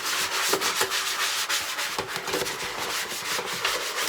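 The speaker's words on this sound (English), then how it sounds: "I just put some water on it and put a little bit of Dawn detergent on my Scrub Daddy, and then I just scrub the mat" Scrubbing sponge with water and Dawn dish soap rubs hard across a Cricut cutting mat, producing close, steady rhythmic back-and-forth scouring strokes with no talking.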